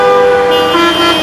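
Car horns blare loud and close in overlapping sustained tones as a motorcade from Kizlev arrives at a Hıdırellez festival in Crimea.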